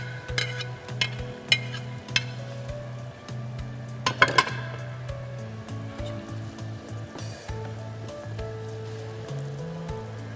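Magur catfish with bean seeds cooking in a pan, giving a steady sizzle with a few sharp clinks and stirring scrapes, all set against a constant low hum.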